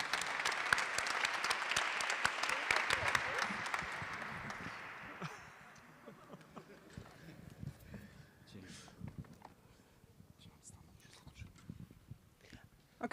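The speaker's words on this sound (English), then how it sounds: "Applause for Thomas." Applause at an MBA graduation ceremony after a special award is announced: a dense burst of clapping for about five seconds that fades into scattered claps and a few voices.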